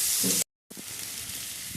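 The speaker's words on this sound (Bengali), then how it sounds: "পেঁয়াজগুলো আমি কুচিয়ে ভালো করে একটু ভাজা ভাজা লাল লাল করে ভাজা ভাজা করে নেব" Chopped onions fry in a pan with a soft, steady sizzle and hiss, broken by a brief moment of silence, faint and close without any talk.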